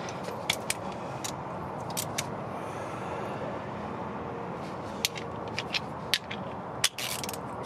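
A hand ratchet clicks in short bursts while rear brake bolts on a 2014 Buick Enclave are snugged, sharp metallic ticks scattered over quiet workshop background, close and fairly faint.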